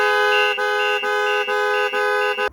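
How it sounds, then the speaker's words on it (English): A loud, steady factory horn on a Ford Transit Custom van, triggered by its alarm system, blares in repeated long blasts with brief gaps, close and insistent, ending abruptly. "it will also trigger the factory horn of the vehicle. It's very, very loud."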